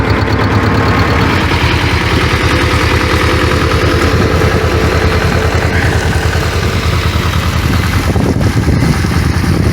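Tractor drives slowly while spreading liquid organic fertilizer on a potato field, its engine a loud, steady, continuous rumble with a coarse mid-range roar throughout, no pauses and no talk.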